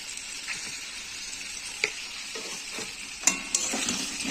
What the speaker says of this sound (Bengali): নিয়ে মশলাটাকে আমি কষিয়ে নেবো ভালো করে।